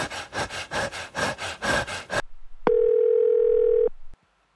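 A rhythmic rough sawing or rubbing runs first, then stops abruptly, and a steady electronic tone from a mobile phone call sounds loudly and evenly for over a second before cutting off into silence.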